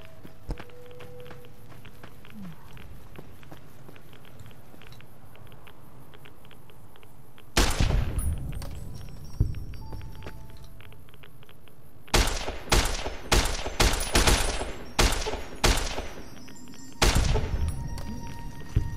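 Gunfire loaded with junk rounds in the video game Fallout New Vegas: after a quiet stretch, a loud volley of shots erupts, then several more sharp bursts and single cracks follow in quick clusters, close and punchy.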